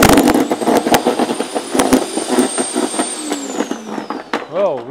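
A Forester 2400W electric branch chipper shreds branches, with loud, irregular cracking and snapping bursts over a whining motor, ending in a wavering pitch as the load changes.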